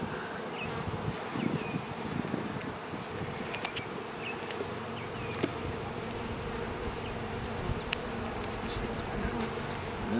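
Honeybees drone in a dense, continuous buzz from an open hive being inspected, loud and close, with scattered brief rustles and individual bees passing near.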